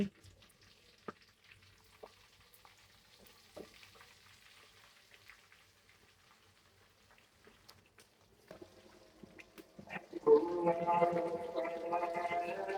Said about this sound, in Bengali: আমি এখন এগুলো তেলে ভাজবো